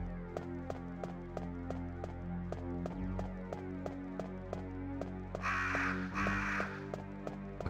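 Crows caw in Tomb Raider Definitive Edition, two harsh bursts standing out over a steady ticking in-game background with regular tapping beats.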